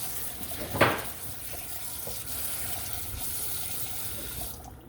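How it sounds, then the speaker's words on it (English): Tap water runs steadily from a kitchen faucet while hot chili peppers are rinsed out in the sink, with a brief louder splash near the start and no talking. "Turn the water a little bit lower, open it up, and you just rinse them out"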